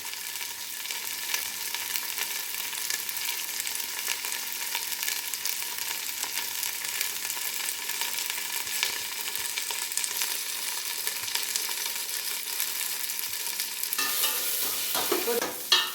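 Cashews and mint leaves fry in ghee and oil in a pan for mint rice, giving a steady close hiss of sizzling with faint stirring and a brief louder burst of crackle near the end; no voices.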